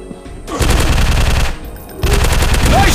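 Rapid bursts of gunfire from a Wild West shooting video game, loud and close, in two sustained volleys with a brief lull between them.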